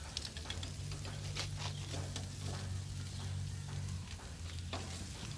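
Meat searing on a grill gives a steady, quiet sizzle and crackle throughout, with faint low hum beneath and a few brief scrapes, heard close without talk.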